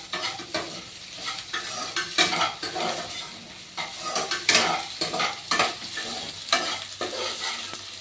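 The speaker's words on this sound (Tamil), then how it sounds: "நம்ம நல்லா முட்டையை வந்து கிளறி விட்டுக்கலாம்" Spoon stirring eggs frying in a pan for pasta, soft sizzle under a series of close scraping and clinking strokes against the pan, no voices.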